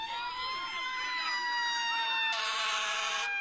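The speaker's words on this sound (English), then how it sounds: "Oh, there's a fire truck." Fire truck siren wailing through a Chicago street celebration, steady and loud, with a burst of brighter horn-like blare near the end over crowd noise.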